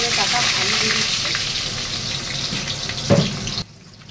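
Thin-sliced potatoes dropped into hot oil seasoned with sugar and nigella seeds, a loud close steady sizzle that swells briefly near the end and then cuts off abruptly.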